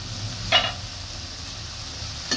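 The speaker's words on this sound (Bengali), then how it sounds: "ভালো করে নেড়ে একটু ঢেকে দেব।" Rohu fish curry with potatoes hisses steadily in a pan, broken by two brief scraping stirs, one early and one at the very end, with no voices present.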